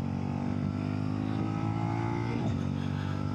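A Suzuki SV650 engine drones loudly and continuously during a ride, its pitch holding steady before dipping briefly as the rider shifts.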